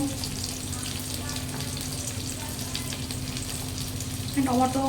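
A paste of tomato, garlic and onion fries in a pan with a dense, continuous sizzle, close and steady, joined near the end by a brief clatter.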